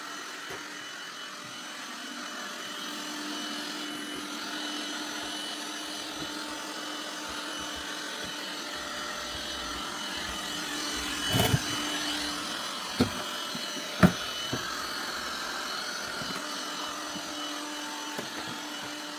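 A robot vacuum cleaner drives around a bathroom under renovation, giving off a steady, fairly quiet motor hum with occasional bumps and knocks as it moves.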